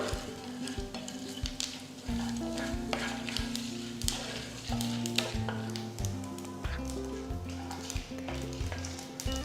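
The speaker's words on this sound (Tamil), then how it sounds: "கடுகு பொரிய ஆரம்பிச்சிருச்சு" Close-up sizzling of mustard seeds and cumin in hot oil, with scattered sharp pops and crackles as the seeds splutter, steady throughout.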